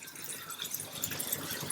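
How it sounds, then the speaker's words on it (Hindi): Water is poured into frying nihari masala in a pan, a steady hissing, splashing pour over sizzling, close and continuous without talk. "मैं इसमें थोड़ा सा शामिल कर रही हूँ पानी"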